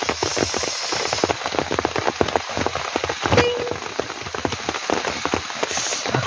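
Torrential rain pounds a tent at a campsite, a continuous close roar of drops hitting the fabric, steady and loud throughout without any talking.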